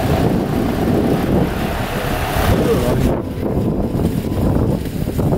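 Continuous wind roaring across the microphone on Hükümet Caddesi in Bartın, Turkey, a dense low rush throughout, with faint voices mixed in underneath.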